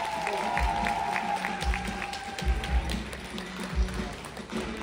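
A crowd claps for b-boys at a breaking competition, fairly faint scattered applause mixed with thumps and a steady tone in the background of a large event hall.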